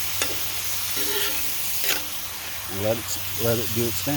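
Onion smash burger sizzling on a hot Lodge cast iron griddle over a Martin stove, a soft steady frying hiss with scraping and stirring touches, under someone talking.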